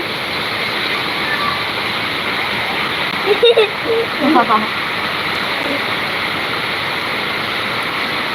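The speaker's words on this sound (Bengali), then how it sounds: "এত বৃষ্টি" Heavy rain pours steadily in a continuous loud wash, with a few brief voices and thumps briefly rising above it midway.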